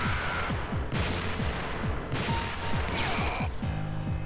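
Rapid gunfire and bursts of explosions from the Metal Slug 3 arcade game, thumping repeatedly over a busy game soundtrack, steady and moderately loud throughout.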